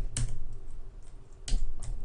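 Typing on a computer keyboard while coding in Java: a few sharp key clicks stand out, with a quiet pause between bursts and no talking.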